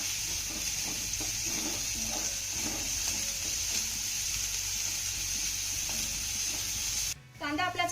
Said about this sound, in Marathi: एक बारीक चिरलेला कांदा घालायचा आहे आता हा घातलेला कांदा आपल्याला चांगला मौसूद होईपर्यंत परतून घ्यायचा आहे